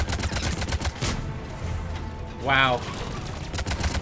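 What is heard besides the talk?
gunfire in the video game Mass Effect 3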